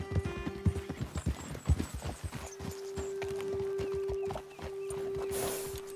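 Horses clip-clop over ground in the video game Red Dead Redemption 2, a loud near run of hoofbeats that slows and fades, followed by a whinny and a steady tonal hum as the animals halt.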